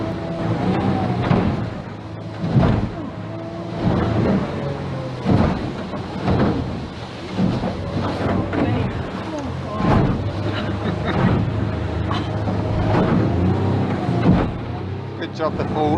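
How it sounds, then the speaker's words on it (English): Water taxi boat crossing a choppy sea to Port William, Stewart Island, with steady engine drone and repeated heavy thuds as the hull slams waves, continuous and close, with occasional voices. "Then a 30-minute water taxi to Port William itself on a bit of a choppy sea."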